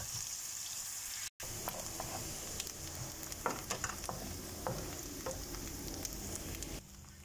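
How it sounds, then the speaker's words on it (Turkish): Chopped onions sizzling in hot oil in a pan, a steady crackling fry with scattered pops and occasional stirring scrapes, close and continuous. "Soğanlarımızı 1-2 dakika kavuralım."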